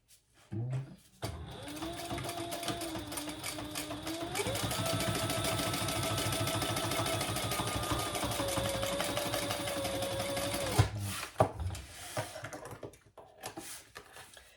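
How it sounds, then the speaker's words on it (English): Sewing machine running steadily as it top stitches a fabric wristlet with a zipper pocket and accent piece, a close, continuous mechanical whir with rapid stitching pulses lasting about ten seconds, then stopping. "And then turn that and top stitch."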